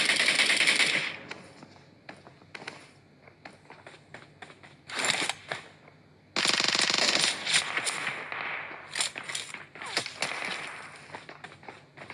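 Rapid bursts of AKM rifle gunfire in PUBG Mobile crackle in clusters, with brief pauses between volleys and a few louder sustained sprays toward the end.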